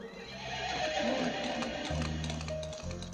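A horse neighs loudly over dense, continuous background music, with a sustained low drone throughout.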